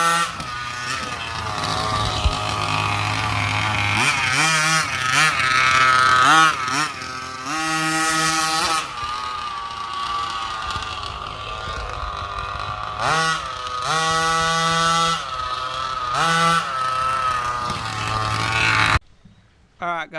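A 1/5 scale Baja RC car's small petrol engine runs loud and steady for most of the stretch, its pitch rising and falling with throttle blips, then cuts off abruptly near the end.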